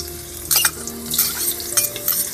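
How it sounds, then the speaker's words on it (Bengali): Crushed garlic paste sizzles in hot white oil in a kadai wok, with steady frying hiss and a few close scraping stirs throughout. "তেলটা গরম হয়ে গেছে এবারে আমি এর মধ্যে দিয়ে দেব রসুন বাটা"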